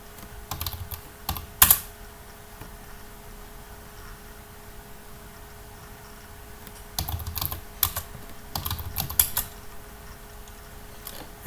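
Keys clatter on a computer keyboard as a login and password are typed in bursts, short clicky runs with pauses of quiet room hum between them.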